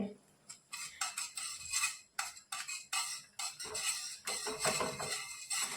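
Gram flour being whisked into water in a bowl for Marathi pithla, giving quick bursts of clinking, scraping strokes that come in rhythmic runs with short pauses between them.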